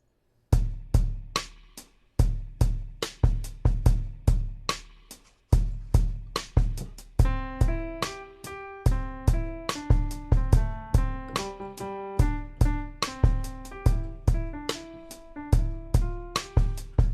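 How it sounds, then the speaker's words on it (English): A programmed drum pattern plays steadily with crisp, punchy hits, joined partway through by a plucked melodic line over the repeating beat. "I put a drum rhythm to this Vietnamese piece"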